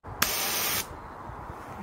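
Bear spray fired in one short, loud hissing burst of about half a second, followed by a quieter outdoor background.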